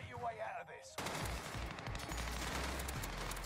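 Dense, sustained automatic gunfire from a Warzone kill race with a three-line rifle loadout, opening with a brief, quieter voice-like passage before loud continuous shooting takes over and runs to the end.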